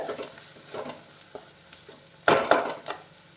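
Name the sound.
onions and curry leaves sautéing in a pan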